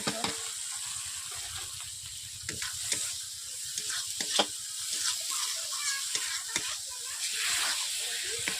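Tomatoes and spice paste frying in a pan for a spicy baby-eggplant dish, a soft steady sizzle with scattered scraping stir strokes from a spoon, fairly quiet and close.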